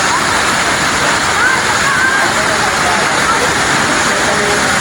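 Batlag Falls waterfall, a steady, loud, broadband rush of falling water filling the whole stretch, with faint voices of a crowd mixed in underneath.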